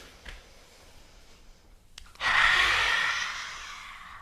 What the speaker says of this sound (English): You take a breath in through your nose and you breathe it out through your mouth.